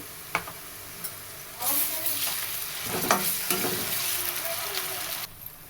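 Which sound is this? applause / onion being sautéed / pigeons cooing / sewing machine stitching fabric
onion being sautéed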